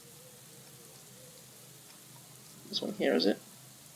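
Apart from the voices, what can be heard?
rain in a cycling video game, Pro Cycling Manager 2019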